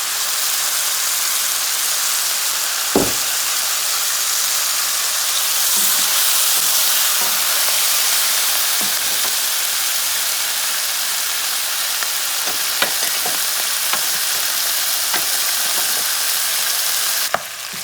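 Rabbit and vegetables fry in olive oil in a pan, giving a loud, continuous hissing sizzle with occasional light clicks and a knock of a utensil.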